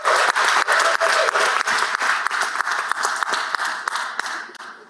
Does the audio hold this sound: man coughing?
no